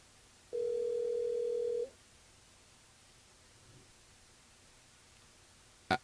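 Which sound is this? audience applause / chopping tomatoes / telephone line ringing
telephone line ringing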